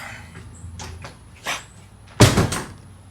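A door in a garage holding a 1950 hearse is knocked and then shut, a few soft thumps followed by one sharp, close bang and a short rattle.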